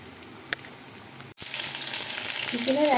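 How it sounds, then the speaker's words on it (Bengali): Chili chicken pieces deep-frying in a pan of hot oil, a steady loud sizzle that bursts in after a brief quiet moment and keeps bubbling to the end. "একদম ডুবো তেলে ভাজছি"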